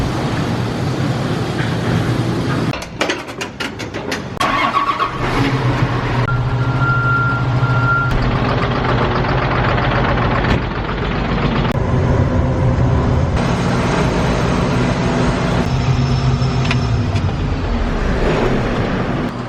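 A service truck backs up amid a John Deere equipment shuffle in a farm shed. Its loud engine rumbles close by while steady reversing beeps repeat over the running motor, with no speech.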